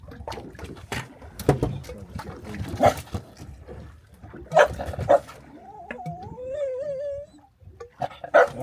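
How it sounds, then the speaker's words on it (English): A dog barks and whimpers in short yips on a small fishing boat at sea, sharp close bursts scattered among quieter stretches, with a drawn-out whining cry in the middle. "Barking at the fish."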